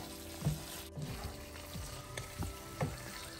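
Potatoes being stirred and whisked into a masala in a pan, with a steady low sizzle and repeated soft scraping strokes of the utensil, close up with no talk.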